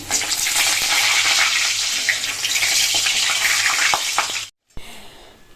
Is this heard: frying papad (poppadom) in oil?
yes